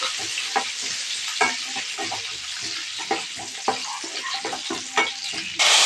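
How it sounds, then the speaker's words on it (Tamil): Nuts fry in ghee in a pan for moong dal payasam, sizzling steadily up close while a spoon stirs and scrapes in repeated clicks, ending with a brief burst of louder hiss. "அது கூட நட்ஸ் நட்ஸ் எல்லாம் சேர்த்திக்கலாம் இதை வந்து நல்லா ஃப்ரை பண்ணி எடுத்துக்கலாம்"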